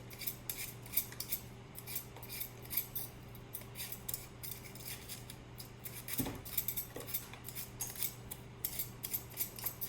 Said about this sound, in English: now I'm going to peel using my vegetable peeler